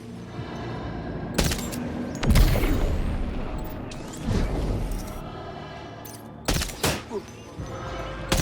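Gunshots in the video game Death Stranding 2 ring out as several loud, sharp cracks with booming impacts, spread unevenly over the game's mechanical noise.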